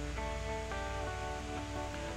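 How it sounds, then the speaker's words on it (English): Steady airy hiss of a spray gun laying 2K clear coat over a customized diecast Hot Wheels Redline delivery car, continuous and close with no pauses or talk. "I'm going to shoot 2 coats of 2K clear."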